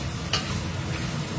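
Tomato and egg fry in a pan, giving a steady close sizzle with a brief scrape or stir partway through and no talk.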